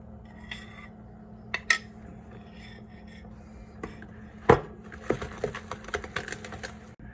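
Chocolate cinnamon muffin batter is stirred in a bowl as the wet ingredients go in, with sparse clinks and scrapes of a utensil against the bowl, a few sharper clatters and quiet gaps between them.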